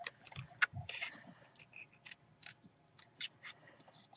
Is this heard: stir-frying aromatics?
no